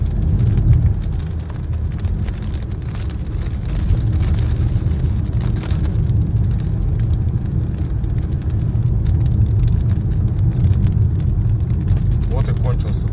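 A car driving through a storm while escaping a tornado, with a steady, loud low engine and road rumble throughout and a wash of rain-like noise over it.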